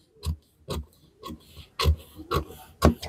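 Sharp scissor snips cutting through a paper pattern and cloth for a bracut blouse, six distinct crisp cuts spaced in an uneven rhythm, close and fairly quiet with no voice.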